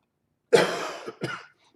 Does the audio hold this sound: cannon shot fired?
no